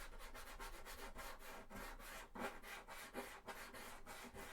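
Sanding cosplay armour for Sisters of Battle calf pieces, a steady close abrasive rubbing with rhythmic back-and-forth strokes, fairly quiet and with no voices.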